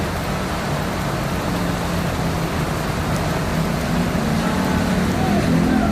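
Steady heavy rain pours down at a bus terminal in Jakarta, a dense unbroken hiss of drops on roofs and pavement that fills the whole scene without pause.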